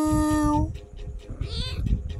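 A small kitten lets out a short, faint mewing cry in the second half, following a steady tonal hum that cuts off, with soft close rustling throughout.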